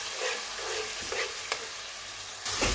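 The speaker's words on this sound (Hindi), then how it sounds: "अब इसको डाल के अच्छी तरह से इसकी भुनाई कर लीजिए, ताकि प्याज अच्छी तरह से भूनना चाहिए" Onion paste frying in a pan, a constant close sizzle with soft scraping stirs that flare louder every second or so and swell again at the end.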